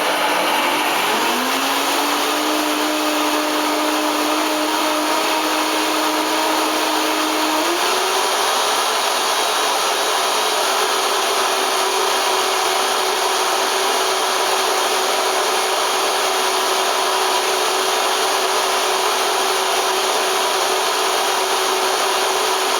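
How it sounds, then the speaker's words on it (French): A blender motor runs steadily and close at hand, whirring through durian and chia cream, its pitch rising and settling as the mixture blends, continuous for the whole stretch with no talking. "je vais mixer"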